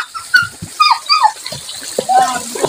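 A dog afraid to cross a river whimpers and yips in short high bursts near the camera, with people talking and water rushing in the background.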